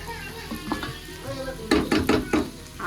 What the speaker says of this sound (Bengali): এদিকে যে ভাজা করছি লাউয়ের চোচা আর আলু, কালো জিরা আর পেঁয়াজ ফোড়ন দিয়ে।